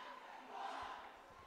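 At a boys basketball game between Shawnee Mission Northwest and South, a brief, faint swell of cheer-squad chanting echoes through the gym. It peaks briefly with a few low thumps underneath.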